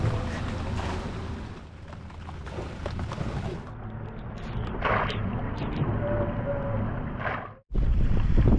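A small sailboat with a sailing rig pushes through wind and choppy water toward a harbor in Fiji's Yasawa Islands, steady wind buffeting the microphone over splashing and rushing water, with a brief dropout near the end.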